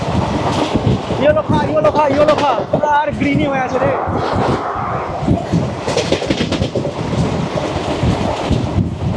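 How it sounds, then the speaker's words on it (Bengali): The Sealdah Duronto Express, train 22201, races alongside at about 130 km/h near Howrah, giving a loud, continuous rumble and wheel clatter close by while people talk over it. "130 কিলোমিটার প্রতি ঘন্টার গতির ঝড় তুলে আমাদের ট্রেনকে প্রায় ছুঁয়ে ফেলেছে ট্রেন নাম্বার 22201 দুরন্ত এক্সপ্রেস।"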